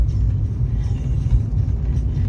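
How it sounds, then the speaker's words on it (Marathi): Steady low rumble of road traffic passing on the opposite side of the road, a continuous near wash of engines and tyres with no distinct horns or voices. "हे आहे ऑपोजिट साइडचे ट्रॅफिक."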